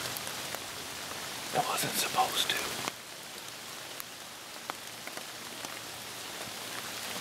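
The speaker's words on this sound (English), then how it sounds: "It's raining." Steady rain falls during an October deer hunt outdoors in Ohio or Michigan, a soft continuous patter with scattered drops, while a person speaks briefly and some rustling is heard up close.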